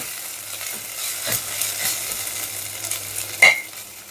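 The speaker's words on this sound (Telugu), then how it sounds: "గార్లిక్ పేస్ట్ సో ఇది కొద్దిగా వేగేంత వరకు ఫ్రై చేద్దాం" Ginger garlic paste frying in a pan for a chana dal and cabbage curry, a steady soft sizzle with light stirring scrapes and one brief sharp clink near the end, close and moderately loud.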